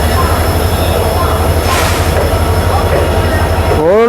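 A special passenger train of old blue coaches passes close by on the Yesvantpur–Mangaluru route, a loud steady rumble and clatter of wheels with squealing at the end.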